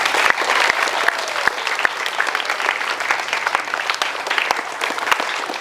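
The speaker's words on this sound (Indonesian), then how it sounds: "Tepuk tangan buat pidatonya dulu." Applause at a school flag ceremony for National Education Day follows a speech, a dense, steady clapping from a gathered crowd that holds evenly throughout, with a few sharper individual claps standing out.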